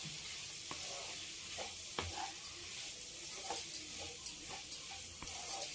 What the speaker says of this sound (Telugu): పచ్చిమిరపకాయలు గుడ్లు ఫ్రై అన్నమాట.